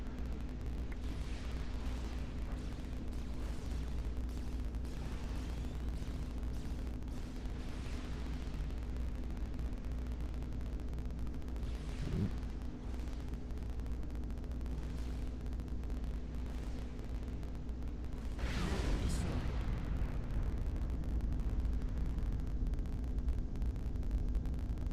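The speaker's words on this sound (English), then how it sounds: "And yes, DaemonicSquirrel survives the nuclear explosion." A nuclear explosion in a real-time strategy game match, a sustained rumbling roar under steady game noise, with a sharp blast near the middle and a bigger burst toward the end.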